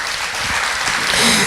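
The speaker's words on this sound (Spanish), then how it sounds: "Dale ese aplauso al Señor." Church congregation applause during a Spanish-language sermon, a brief burst of crowd clapping that builds and stays loud and dense over a second and a half.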